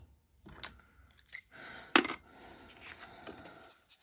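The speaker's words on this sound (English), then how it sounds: "So I'm going to cut these apart" Scissors cut paper for a handmade card, a few sparse snips and one sharper metallic click, close and quiet against near silence, with no talking.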